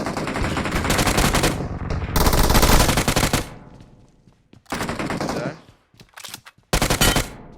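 Automatic gunfire bursts in PUBG Mobile, with rounds striking an enemy's helmet; several loud, close rapid-fire volleys separated by short pauses, no talking.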